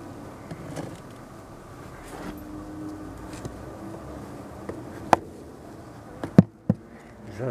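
Honey bees crowd behind a hive's division board after being fed syrup, humming softly and steadily, with scattered wooden knocks and clicks toward the end.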